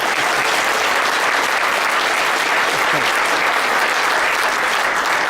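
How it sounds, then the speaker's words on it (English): An audience at a 2018 Aflac company kickoff meeting in Austin, Texas claps steadily, a dense, even wash of applause that holds at full strength throughout. "Can I get a round of applause for them?"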